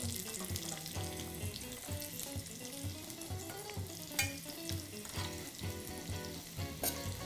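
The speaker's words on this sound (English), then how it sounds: "you hear that sizzling? It's time for the rest of the onions to go in." Onions sizzle steadily in hot oil with a constant crackling hiss, punctuated by occasional scraping and stirring clatter.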